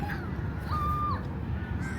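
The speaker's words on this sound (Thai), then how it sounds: "เป็นมาเล่นกับอีกา" A crow gives a single drawn-out caw outdoors, faint and fairly distant over low background noise.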